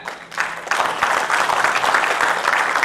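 An audience at a life and business coaching event breaks into applause, dense clapping that swells after a brief start and holds steady, close and loud.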